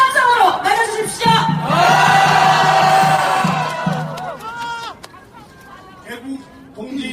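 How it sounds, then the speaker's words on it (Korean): A large crowd at a Taegukgi rally in Gwanghwamun Square erupts in loud cheering and shouting to welcome a speaker, with a voice calling out over it; the roar fades after several seconds into scattered voices. "정찬범 교수님을 큰 함성으로 맞아주십시오."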